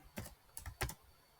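Keys tapped on a computer keyboard while entering code for a histogram plot in Jupyter Notebook, three close clusters of clicks over a quiet background.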